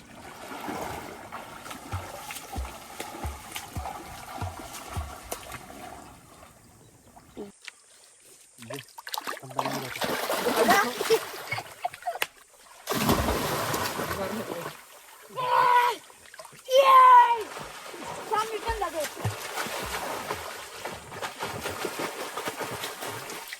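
People splash and plunge into open water outdoors in a forest, with bursts of splashing and churning water between quieter stretches, while voices talk and shout throughout.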